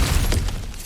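A loud smash in God of War Ragnarök as an object is broken apart, a brief crashing shatter with a heavy low thump and scattering debris that fades within a second.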